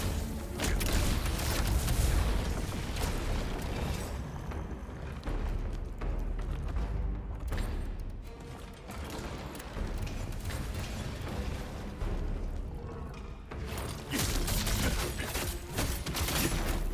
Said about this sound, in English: Fucker literally has a cannon for an arm.